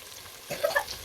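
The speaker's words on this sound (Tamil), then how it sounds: "இப்போ நம்ம இறைச்சி சேர்த்துப்போம்." Mutton pieces fried in hot oil with ginger garlic paste for a wedding-style mutton biryani, a soft sizzle swelling suddenly as the meat lands in the pan, brief and fairly faint.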